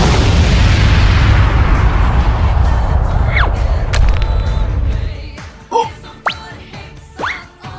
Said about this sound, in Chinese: 卧倒要爆炸了！